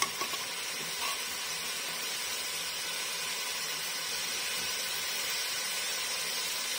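Spices and Punjabi pulao masala frying in a pan, a steady close sizzling hiss without pause.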